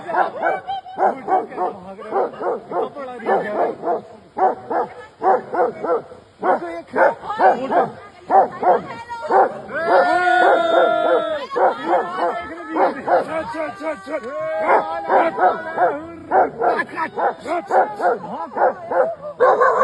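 Several dogs bark, yip and whimper in a rapid, fairly close chorus, with a stretch of drawn-out howling in the middle, outdoors in a hillside setting.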